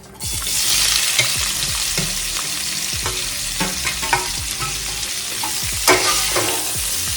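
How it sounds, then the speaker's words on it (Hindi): Chopped onions fry in hot salted oil while being stirred, a loud continuous sizzle broken by repeated scraping and knocking of the spoon against the pan, no talking. "इसी तरह प्याज को थोड़ा सा गुलाबी होने तक हमने भूनना है।"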